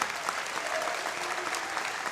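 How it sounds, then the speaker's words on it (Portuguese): Congregation at a church sermon applauding again, a brief continuous patter of many hands heard at moderate distance and fairly soft. "Vamos aplaudir novamente?"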